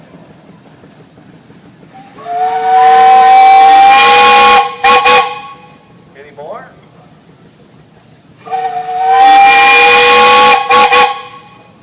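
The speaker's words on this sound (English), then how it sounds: "you have a whistle." Two long, loud steam engine whistle blasts with rich harmonic tones at a steam engine show in Rushville, Indiana, separated by a pause; a brief voice speaks between them.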